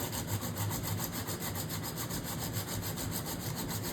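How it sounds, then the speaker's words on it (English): A guitar saddle rubbed back and forth on a sheet of sandpaper gives a steady, close scratchy rasp with a rhythmic push-pull pulse that runs without a break. "you keep rubbing it back and forth on the sandpaper"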